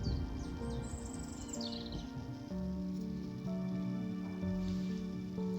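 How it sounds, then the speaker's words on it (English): Several songbirds, including starlings, a chiff-chaff and a robin, chirp and whistle in a windy Northern Finland spring morning, with faint overlapping calls and steady high tones at a modest distance. "the birds are singing. Starlings, chiff-chaff,"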